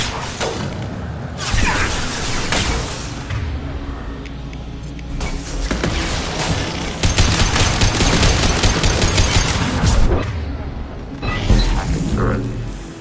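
A defensive turret firing in Mass Effect 2: loud, rapid bursts of gunfire among whooshes and impacts, close and continuous in the thick of combat, with a game soundtrack underneath.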